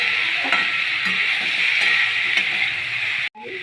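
Thinly cut potatoes frying in oil in a pan, a steady bright sizzle with occasional stirring clinks, continuous and close until an abrupt cutoff near the end.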